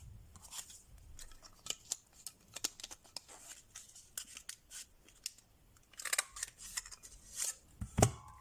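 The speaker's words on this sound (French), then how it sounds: "et je peux couper mon étiquette." Scissors snipping through a paper label for handmade card making, a series of quiet, crisp close cuts spread unevenly through the clip, with a louder snip at the end and no talk.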